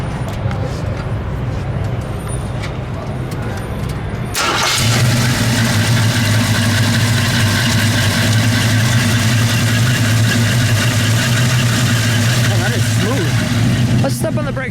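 A 1974 AMC Matador DL with a 360 cubic inch V8 cranks briefly and catches, then settles into a loud, steady rumbling idle that runs close by to the end.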